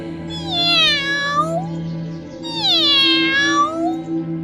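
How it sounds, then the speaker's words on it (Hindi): A cat meows twice near the listener, each call a long, rising-then-falling wail lasting over a second, over a steady low electrical hum, with no speech. "अरे ये बिल्ली कहाँ से आ गई?"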